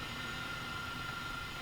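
Steady, even drone of an H135 helicopter in Flight Simulator 2020 flying over the pyramids of Giza, a constant faint hum with no variation and no speech.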